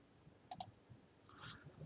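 Computer mouse clicks in Ventsim mine-ventilation software: a quick double click, then a softer single click a second later, close and quiet.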